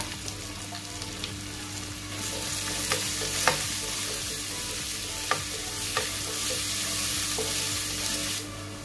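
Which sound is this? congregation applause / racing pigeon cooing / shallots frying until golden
shallots frying until golden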